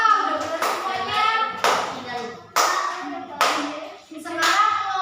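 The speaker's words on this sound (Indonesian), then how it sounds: "Ya, tepuk tangan dong buat kelompok 2." A fifth-grade elementary school class claps for a group in a classroom. The applause comes in several loud bursts, with children's voices mixed in.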